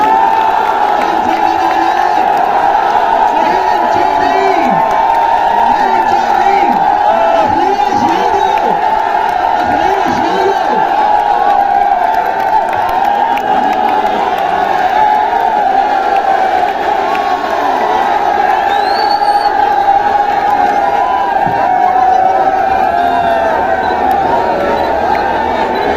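A large crowd at a Bheem Army rally in Khatauli for Azad Samaj Party chief Chandrashekhar Azad chants and cheers continuously, loud and dense throughout, with rhythmic shouted slogans over a steady roar.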